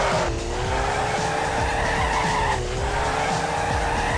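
Stock Mazda MX-5 drifting in the CarX Drift Racing video game, with a loud, continuous tire squeal and skid over a steady engine drone, sustained throughout without pause.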